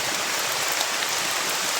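Rain falls steadily outdoors as a dense, even hiss with no gaps, heard close and alone for a couple of seconds.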